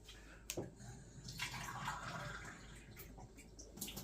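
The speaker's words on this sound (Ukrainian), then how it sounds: "я десь буду додавати 300 мл води" Water poured from a container over about 700 grams of beef in a multicooker pot, a steady splashing pour lasting several seconds with a few sharper splashes, close and fairly quiet.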